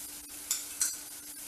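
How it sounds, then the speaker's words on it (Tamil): Soft bubbling and faint sizzling from sugar syrup boiling in a pan on the stove, with two brief louder pops of boiling, steady and fairly quiet throughout. "இப்போ நல்லா கொதிக்குது"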